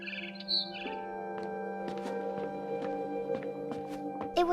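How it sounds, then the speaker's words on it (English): A barn swallow chirps outside a window in the game What Remains of Edith Finch, short bright bird calls scattered over a steady musical drone and ambient hum. "Then I heard chirping outside my window."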